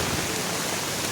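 Heavy rain falls during a wind storm at an outdoor festival campsite, a dense steady hiss that fills the whole short stretch with no voices.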